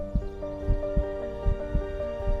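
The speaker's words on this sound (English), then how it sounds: "We can hear heartbeats from far away." Steady heartbeat sound effect, a regular series of soft, low thumping double pulses about twice a second over a faint sustained hum.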